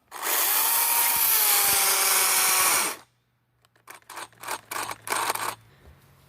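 Battery chainsaw with a stock-size bar and freshly sharpened chain, oiling poorly, cutting wood for carving: a loud continuous whine for three seconds, then silence and several short cutting bursts, close up.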